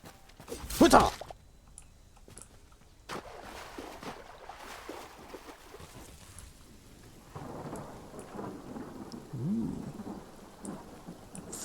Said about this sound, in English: So we don't get to enjoy the lightning and the thunder and the storm.